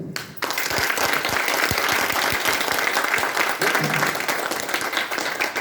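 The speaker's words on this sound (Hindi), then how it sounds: "एक बार जोरदार तालियां हो।" A large seated audience bursts into loud applause at a motivational business talk, a dense, sustained roar of clapping with distinct nearby claps, starting suddenly and holding strong throughout.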